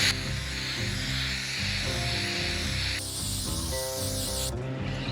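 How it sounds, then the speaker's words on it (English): A steady hiss of graffiti remover sprayed from an aerosol can onto old paint on a 1964 VW Bus, continuous and close, with a slight shift in tone partway through. "And I'll spray it over an area, a small rectangle."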